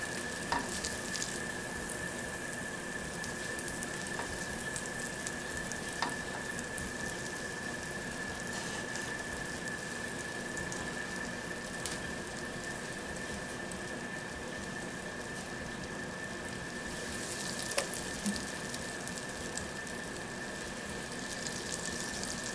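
Butter melts and sizzles in a pan for biscuit gravy, with a steady, soft crackling hiss that continues evenly for a long stretch and only occasional small pops.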